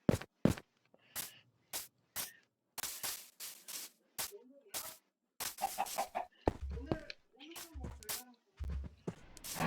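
Chickens in the Minecraft video game cluck in short repeated bursts among clicky in-game sounds, while a person talks over them intermittently.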